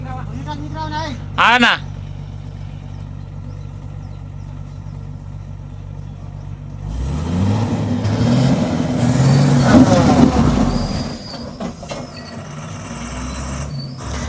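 A 20-ton borewell truck that has sunk into the ground idles with a low rumble, then its engine revs up loudly for several seconds before easing back, with voices around it.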